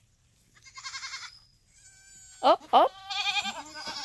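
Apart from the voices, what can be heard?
kid goat bleating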